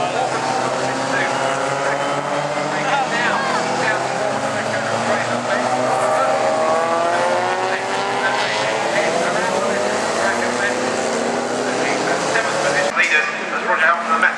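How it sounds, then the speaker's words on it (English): Racing trucks roar past on a wet track at Brands Hatch, a loud, continuous engine drone with shifting pitch as they pass, under steady commentary. "The trucks are going fast, but it's quite wet."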